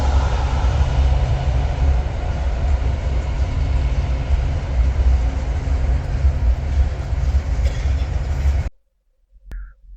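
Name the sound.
train passing near downtown Lakeland, Florida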